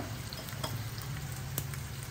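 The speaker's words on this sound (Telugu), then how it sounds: "ఇంత జీలకర్ర, ఇవన్నీ బాగా వేగనిద్దాం." Garlic and cumin seeds fry in hot oil for tempering, giving a steady, close sizzle with small pops and crackles throughout.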